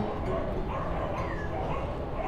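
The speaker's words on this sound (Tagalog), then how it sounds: "Ang dami asong tumatahol ah." Several dogs bark and yip close by on a hilly road inside U.P. while someone rides a bicycle, a cluster of sharp barks with whimpering yips rising over steady background noise.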